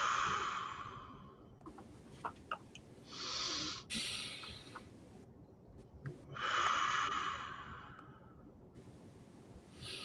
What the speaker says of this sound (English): switching to your index finger, closing your left nostril and exhaling